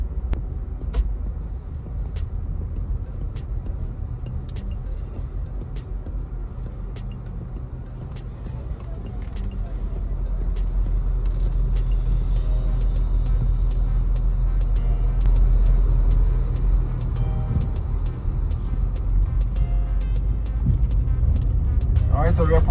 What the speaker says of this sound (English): So that's why there's so much traffic here.